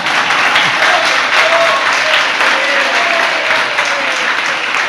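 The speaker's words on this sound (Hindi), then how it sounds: "आप तो कहते हैं ताली तो बजाओ, हमारे तो ऑनलाइन भी तालियां बजती रहती" Sustained applause from an audience at a religious discourse on the Namokar mantra, a dense steady clapping filling the whole stretch with no voices over it.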